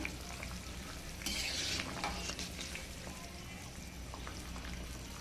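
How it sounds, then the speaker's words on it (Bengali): A curry of gati kochu taro and poa fish boils and sizzles steadily in a pan, with a brief louder splash and hiss as shrimp are dropped in, close and continuous with no talking. "ঝোলটা ফুটতে শুরু করে দিয়েছে। এবারে আমি চিংড়ি মাছটা দিয়ে নিচ্ছি।"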